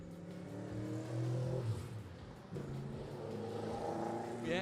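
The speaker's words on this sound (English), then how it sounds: "the V8 Masters are now coming out of the Dennis Joubert pit complex" V8 race cars roll out of the Dennis Joubert pit complex for a warm-up lap at a V8 Masters round, their engines rumbling and whirring steadily with a few rising revs, loud and continuous throughout.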